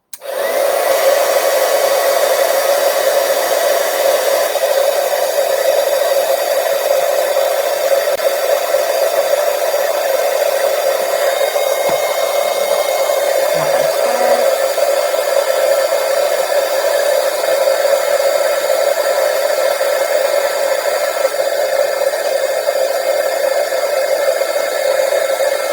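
An embossing heat tool blows steadily and loudly, melting silver metallic embossing powder on holly berries for a card-making project, a continuous hair-dryer-like whoosh with no talk throughout.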